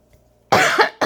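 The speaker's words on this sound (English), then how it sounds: "I'm just coughing." A person coughs twice at close range, a loud harsh burst followed after a short pause by a second cough, with near silence before them.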